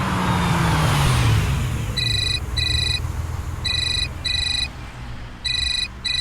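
A loud vehicle rumble with a passing tone, then a bright electronic ringtone sounding in repeated short bursts with brief gaps.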